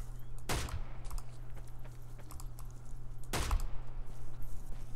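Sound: gunfire in video game DayZ

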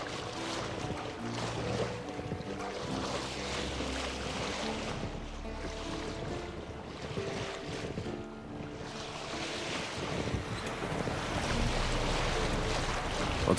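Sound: sail flapping in the wind on a boat, The Witcher 3 video game

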